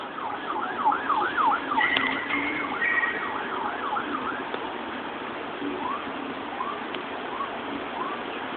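A wailing emergency siren rises and falls in the distance over steady road traffic noise, fading slightly toward the end.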